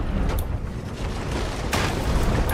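Ship cannons fire in Sea of Thieves during a naval battle against a skeleton navy, with dull booms and mechanical clatter, a sharper blast near the end, all under continuous sea and battle noise.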